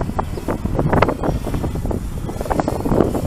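Gusty wind buffets around a flying camera drone outdoors, loud blustery rushing and microphone wind noise surging in uneven bursts across the whole short stretch.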